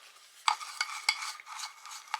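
A soldering iron tip scraped and rubbed into a dish-washing scrubber pad gives close, scratchy bursts of friction that come in a few uneven strokes, with no talking.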